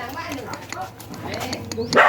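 A Thai Bangkaew dog barks at home, giving a few sharp barks and yips that build to a loud close bark at the end, with people speaking nearby.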